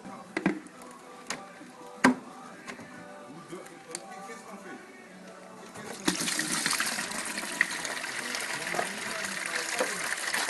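Liquid drains out of a Renault Mégane 2 engine bay with a soft trickle that swells into a steadier gushing flow midway, alongside quiet clicks and taps and occasional talk.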